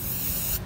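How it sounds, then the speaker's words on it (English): Goof Off paint stripper sprayed from an aerosol can onto a vintage car, a short steady hiss at close range that cuts off abruptly at the end. "this is my third coat of spray."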